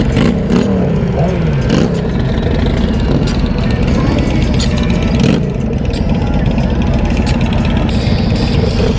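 Many Harley-Davidson motorcycles idling and revving together at a nighttime bike meet, a dense, loud, continuous rumble with occasional throttle blips, while people talk amid the crowd noise.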